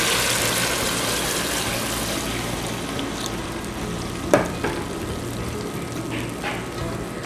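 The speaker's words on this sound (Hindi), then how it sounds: "हम जो पानी हमने नाप के रखा था वो डाल देंगे" Measured water goes into a hot pot of chicken yakhni pulao, and a steady close sizzle and hiss follow, with a couple of short clinks near the middle and no talking.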